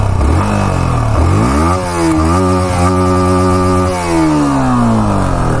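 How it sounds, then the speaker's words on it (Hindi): A Yamaha R15 V4 single-cylinder motorcycle revs its exhaust, first idling, then rising steeply to a sustained high-pitched rev that later falls back. It sounds loud and close, with no one talking. "तो ये एग्जॉस्ट साउंड है इसका"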